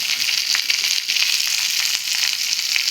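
Chopped okra fries in hot oil with a steady, close, loud sizzle and crackle, sprinkled with small pops and no voices.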